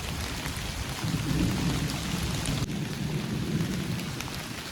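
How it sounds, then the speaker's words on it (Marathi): Heavy rain pours down in a dense, steady roar, with low rumbling underneath, close and unbroken throughout. "आता भिजणार आपण पूर्ण एवढं पाऊस चालू झालेलं आहे"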